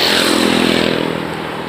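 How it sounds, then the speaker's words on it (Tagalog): Motorcycles and other vehicles pass along a busy street, a loud steady engine roar filling the whole stretch and easing off slightly toward the end. "Daming sakyan dito"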